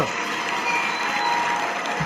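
Steady, dense applause from a crowd fills the space without a break, with no clear talk over it.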